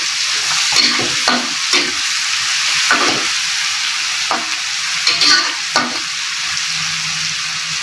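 Dried shrimp sizzles steadily in a hot pan alongside bitter gourd, tempeh and aubergine in a stir-fry. Strong frying hiss runs throughout, with scraping and stirring strokes at irregular intervals, close and with no talk.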